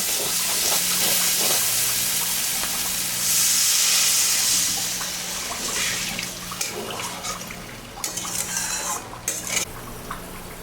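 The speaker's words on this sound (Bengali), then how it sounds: "আমি এখন জল দিব।" Water hits frying spices in a pan for a snakehead fish curry, setting off a loud burst of steamy hiss that fades, followed by scattered clinks and stirring scrapes.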